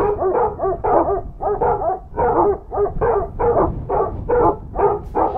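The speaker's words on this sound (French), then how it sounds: "Quand les chiens cessent enfin d'aboyer" Several dogs bark close and loud in quick, repeated bursts, mixing deep barks with yips and whimpers in an insistent, uneven rhythm.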